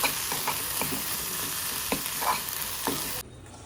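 Spices for holige sambar roast in a pan while being stirred. A steady dry sizzle is punctuated by repeated scraping strokes of a spoon against the pan, close up, before the sound cuts off sharply.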